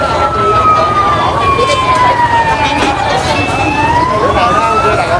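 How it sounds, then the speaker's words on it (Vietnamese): An ambulance siren wails loudly and steadily, rising and falling, as it approaches through jammed traffic on the road to An Hoa, with dense engine and road noise beneath. "Có một chiếc xe cứu thương đang đi đến"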